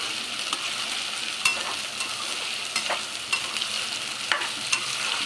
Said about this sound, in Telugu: కొంచెం పావు స్పూన్ అంతా అల్లం వెల్లుల్లి పేస్ట్ వేసి ఫ్రై చేసుకోవాలి